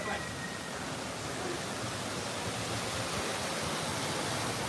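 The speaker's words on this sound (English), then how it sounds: "So we're coming back towards the waterfalls." Waterfall at Disney's Wilderness Lodge resort, a steady, loud broadband rush of falling water close by, unbroken throughout with no voices over it.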